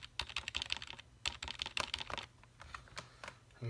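Typing on a plain, dusty Logitech full-size keyboard: quick irregular bursts of soft plastic key clicks close to the mic, fairly quiet, with brief pauses between runs and no talking.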